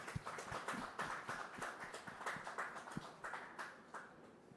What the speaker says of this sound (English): A big round of applause for Sachin,